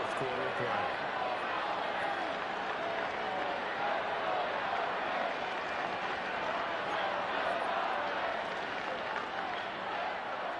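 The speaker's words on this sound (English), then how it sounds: "This crowd turning up the decibel level" A stadium crowd roars steadily in a Madden football video game, a dense and constant din of cheering and applause at a Jets versus Dolphins game.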